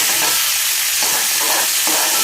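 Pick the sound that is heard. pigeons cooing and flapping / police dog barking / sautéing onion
sautéing onion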